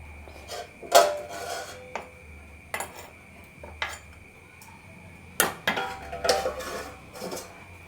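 Spoon clanks and scrapes against a metal pot while chicken vindaloo curry is stirred, then a lid is set on, giving a series of sharp separate knocks and clinks with quiet pauses between, close and fairly soft.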